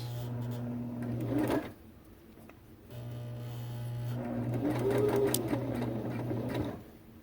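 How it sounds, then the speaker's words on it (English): A sewing machine stitches knit nylon in two runs, forward then backward, its motor whirring steadily and close with a short pause between bursts. "I'm going to go ahead and sew, and then I'm going to back it up, sew backwards all the way to the end."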